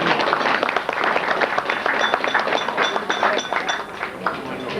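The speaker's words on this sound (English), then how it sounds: "give him a little clap" Small gathering at an association reunion in a restaurant giving a round of applause for a member, a dense patter of hand claps sustained for several seconds at moderate loudness.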